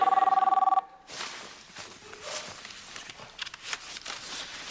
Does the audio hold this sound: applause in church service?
no